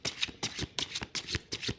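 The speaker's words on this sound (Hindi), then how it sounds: "और शफल करते हैं और कार्ड्स निकालते हैं" Tarot cards are shuffled close by in about six quick, evenly spaced riffling bursts, each a crisp flurry of rustling card edges with short pauses between.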